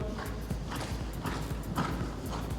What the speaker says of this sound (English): Keep that canter up now, look for your next jump.